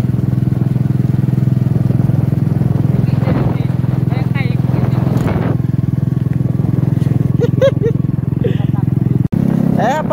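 A motorcycle engine runs loudly and steadily, a close, continuous low drone with short bursts of talk over it and a brief cutoff near the end.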